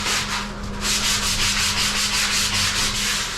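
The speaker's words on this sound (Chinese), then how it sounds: "拿着我们的砂纸 来打磨这个墙面" Sandpaper is rubbed by hand over a dried, freshly patched plaster wall, giving a rapid series of scratchy back-and-forth strokes, close and fairly loud, with no one talking.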